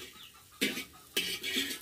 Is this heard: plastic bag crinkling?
no